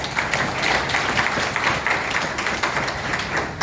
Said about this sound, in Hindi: इस बार जो तालियां बजी सेंटेंस पूरा होने से पहले